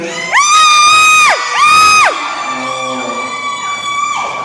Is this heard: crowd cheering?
yes